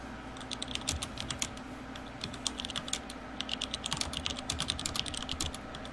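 Computer keyboard typing during a League of Legends match broadcast: rapid, irregular clusters of keystrokes, fairly faint and steady over a low background hum, with no speech.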